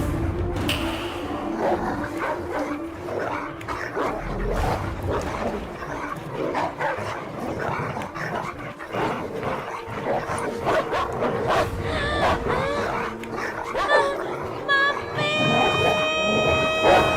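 Dogs bark and yelp in an Indian film scene where they are set loose on a girl, repeated harsh barks amid music and commotion.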